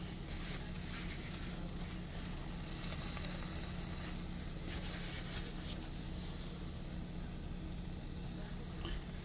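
A keto chaffle cooks in a hot waffle maker with a constant dense sizzle and hiss, briefly louder for a moment, under a steady background hum.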